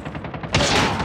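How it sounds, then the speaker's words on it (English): Gunfire in a military shooter video game: a rapid burst of close, loud shots that thickens into a sustained roar of fire in the second half, with no talk over it. "I got shot!"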